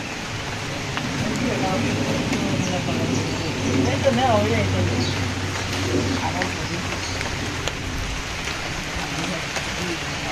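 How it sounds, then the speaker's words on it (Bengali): Steady rain falling in a village, a continuous even hiss at moderate level throughout, with faint distant voices and a low background hum. "বৃষ্টি শুরু হয়ে গেছে।"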